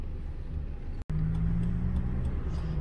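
A car pulls away in ordinary traffic after letting a cyclist pass first, its engine a steady low rumble that holds close and fairly loud throughout, with a brief dropout near the middle.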